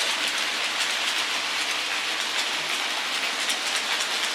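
An OO gauge model train with a Royal Alex locomotive pulling LNER coaches runs along layout track, giving a steady, close hiss of wheels with faint, regular clicking.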